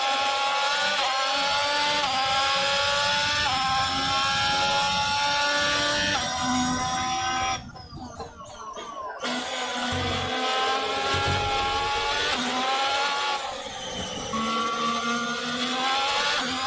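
An F1 race car engine in the VR racing game F1 2022 screams at high revs throughout, rising and falling through gear changes, with a brief dip before the continuous loud whine returns.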